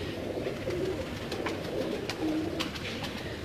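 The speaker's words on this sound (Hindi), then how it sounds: "ये जी नाग कबूतर है, काले मिस्से भी हैं" Naag breed pigeons, black-marked, coo softly in a low, throaty rolling call, repeating close by against a steady background murmur.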